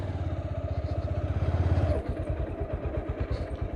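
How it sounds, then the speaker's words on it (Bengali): A motorcycle engine running close by in a park parking zone, a steady rhythmic low thumping idle that shifts and roughens partway through as the bike is parked. "মোটরসাইকেল পার্কিং করে রেখে দিই"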